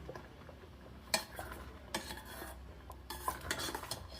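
Ragi flour is stirred into a thick mudde in a pot, giving soft scraping and rubbing with a few sharp clinks of the spoon against the vessel, fairly faint and alone.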